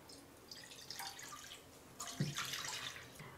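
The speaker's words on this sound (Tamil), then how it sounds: "கடாய் வச்சுக்கோங்க, 2 கப் தண்ணி சேர்த்தலாம்." Two cups of water go into a kadai for a vegetable curry, heard as soft, close splashing and trickling that swells into a fuller pour near the end. It stays fairly quiet overall.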